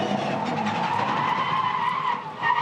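A Supercars race car spinning under throttle during practice at the Bathurst 1000, heard onboard as close, loud tyre skidding and squealing over a revving engine that surges again at the end.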